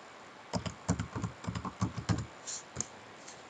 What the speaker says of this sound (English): Then I'll type there nutrition.